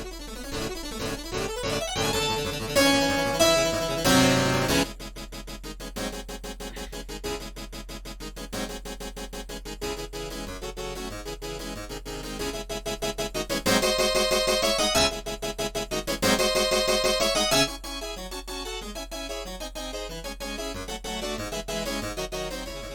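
A harpsichord part plays back from a MuseScore score as a continuous run of bright plucked notes, at times in fast dense flourishes and arpeggios, with no voices.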